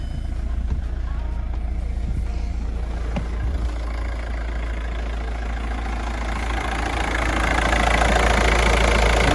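A Volkswagen Golf diesel engine with about 270,000 km idles with a steady, low, rumbling chug that holds throughout and grows slightly louder and rougher toward the end.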